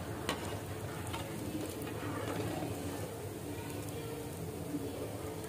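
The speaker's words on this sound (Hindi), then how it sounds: "इसी तरह से सारे ब्रेड को फ्राई कर लेंगे" Bread slices sizzle and fry in hot oil in a pan for shahi tukda, a steady crackling hiss with faint stirring clicks under the cooking.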